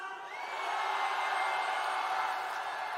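A crowd at a political rally in Gumi, South Korea, cheers in a swelling, sustained roar that rises quickly and holds loud with scattered whoops.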